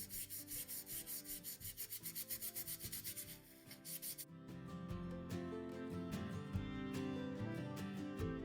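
A tissue rubbing over dry paint on paper, a steady rhythmic scrubbing at first, then a louder continuous rough rubbing with scattered scratchy strokes, close and alone.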